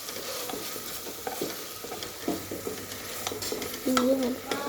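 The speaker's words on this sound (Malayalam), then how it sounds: "ഇഞ്ചി വെളുത്തുള്ളിയും നല്ലവണ്ണം ചതച്ച് ഇളക്കി കൊടുക്കാം" Crushed ginger and garlic frying in a pan for chicken curry, stirred with a few scraping strokes over a low, steady sizzle, close up and fairly quiet, with no one talking.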